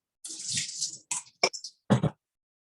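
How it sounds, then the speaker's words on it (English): Water from soaked cashews drains into a kitchen sink in short splashing bursts, a longer pour followed by a few brief gushes and spatters, close and alone with no talk. "I'm going to drain it in the sink"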